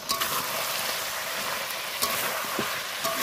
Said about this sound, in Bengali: ভালো করে কষিয়ে নেব যতক্ষণ না সেদ্ধ হয়।